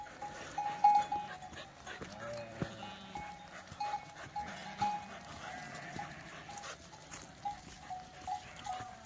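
A flock of sheep being driven into a corral on a farm, heard as faint, distant bleats and scattered hoof clatter over a quiet outdoor background.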